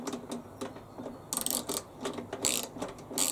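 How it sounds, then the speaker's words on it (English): Quiet, close ratchet clicks as bolts are tightened on the blades of a Hyundai HYSC210 lawn scarifier/aerator, in short irregular bursts of rapid metallic ticking with pauses between; no speech. "I'll just tighten up the 4 bolts."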